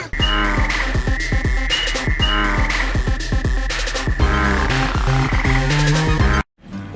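A dense, loud chorus of frogs and toads croaks and trills at a vernal pool, many calls overlapping rhythmically with no voices, before cutting off abruptly near the end.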